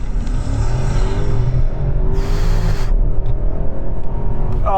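A turbocharged car with internal combustion engine launches hard from a standstill in a 0 to 60 mph run, its loud engine roaring steadily and building through the gears for several seconds, with a sharp gear-change break midway.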